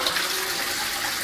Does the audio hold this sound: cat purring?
no